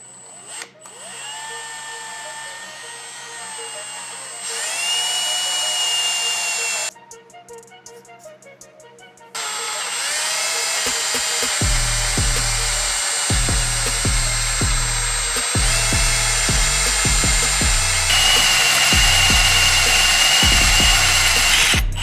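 A power drill whines steadily, stopping and restarting with changes in pitch, then grinding harder with rhythmic thumps as it bites into material, while making car accessory brackets.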